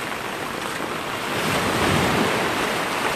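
Ocean surf washes onto the front beach at Boracay on a rainy day. The broad, steady roar of the waves swells louder midway, with heavy wind buffeting the microphone and no voices.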